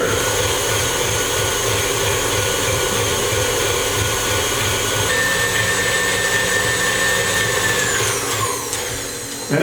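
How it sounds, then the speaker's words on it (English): Electric mixer beating German chocolate cake batter until light and fluffy, a loud steady whir holding at one speed throughout, alone with no talk. "We're going to allow those to mix until the mixture is light and fluffy"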